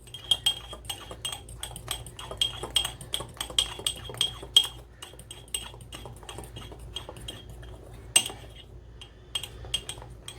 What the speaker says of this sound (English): So we're going to stir this in as well.